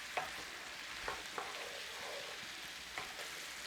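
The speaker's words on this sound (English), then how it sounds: "Just give that a stir through." Spoon stirring a pot of Southern-style black-eyed pea Hoppin' John with onions, spices and apple cider vinegar, a soft, close sizzle with a few faint scraping taps against the pot.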